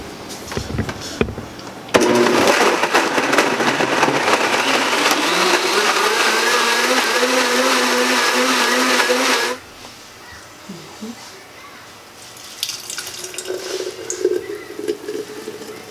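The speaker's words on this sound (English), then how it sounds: "We put our lid on. And let's blend it all up." A countertop blender whirs loudly and steadily for several seconds as it purees a Brazil nut protein shake with sea moss and hemp seeds, its pitch rising as the mix smooths out, then cuts off, leaving faint handling sounds.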